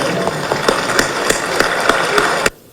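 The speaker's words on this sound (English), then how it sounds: "I therefore invite all of us to give him a standing ovation and more applause" Audience applause for a standing ovation at an ECOWAS summit rings out as steady, loud clapping from a crowd in a hall with scattered sharper claps, cutting off abruptly near the end.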